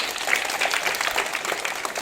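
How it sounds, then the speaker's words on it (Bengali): Schoolchildren in a classroom clap loudly together, a dense burst of rapid applause that continues steadily throughout. "তাহলে একবার জোরে হাততালি দিয়ে দাও"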